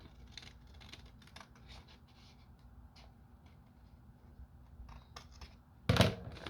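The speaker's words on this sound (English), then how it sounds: "So I'm going to cut this little piece here, straighten it out." Scissors cut a small piece of paper with a single crisp snip near the end, preceded by faint rustling and handling of paper in a quiet room.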